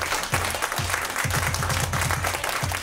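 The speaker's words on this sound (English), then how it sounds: "Can we give a big round of applause to the panelists that came in?" Applause from a symposium audience for the panelists, a steady, dense wash of many hands clapping close by, sustained through the whole stretch without talk.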